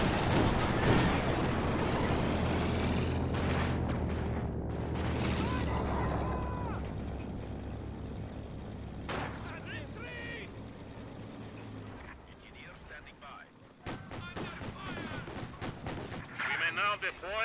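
Machine gun bursts and booming artillery fire in a World War II strategy game, dense and loud at first, then thinning into scattered shots and blasts with a voice speaking over the battle.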